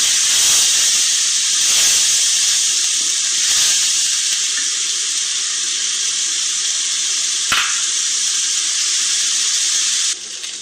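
Masala beef with onions sizzling and frying in a pan, a steady loud hiss throughout with one brief clatter near the end.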